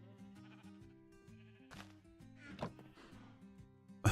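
A Minecraft sheep bleats twice, short wavering cries standing out over steady, soft background game music, with a faint click near the end.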